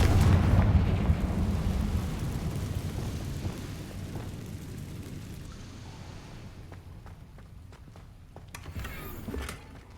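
A Confringo fire spell blasts in Hogwarts Legacy, a loud booming explosion that roars at the start and rumbles off over several seconds, with crackling debris toward the end.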